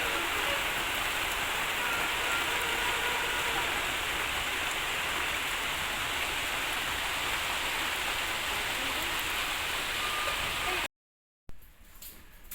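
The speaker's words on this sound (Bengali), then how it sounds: "আজ সকাল থেকেই খুব বৃষ্টি হচ্ছে।" Heavy rain hisses steadily and evenly for a long stretch, loud and close, then cuts off abruptly near the end.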